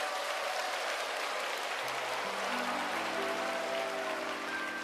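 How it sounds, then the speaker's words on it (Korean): Congregation applauding at a national church women's association retreat, a sustained wash of crowd clapping with sustained musical tones entering partway through. "다시 한번 박수 한번 해주세요."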